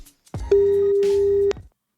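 A telephone tone while phoning someone, a single steady electronic beep lasting about a second, clear and close, preceded and followed by faint handling noise.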